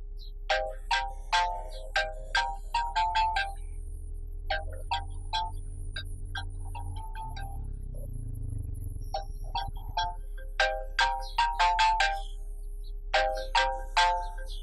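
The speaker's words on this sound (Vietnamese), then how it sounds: "Gọi Minh Thùy cho tao." A telephone rings during an outgoing call, a melodic electronic ring pattern of bright repeated tones playing in bursts with short gaps, fairly clear over a low background hum.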